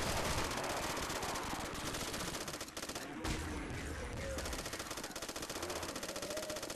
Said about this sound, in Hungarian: Eléggé fura hangja van a machine gunnak.